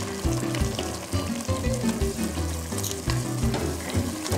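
Lamb meat sautéing in a pan makes a continuous crackling sizzle with intermittent stirring scrapes and some clatter, moderately loud and close, no one talking.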